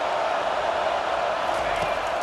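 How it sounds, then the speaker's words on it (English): Stadium crowd noise from the EA Sports College Football 25 game, Alabama versus Notre Dame: a steady, dense roar of a large crowd holding at constant loudness throughout, with no clear peaks. "This crowd bringing the energy and noise early."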